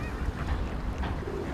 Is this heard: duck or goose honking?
yes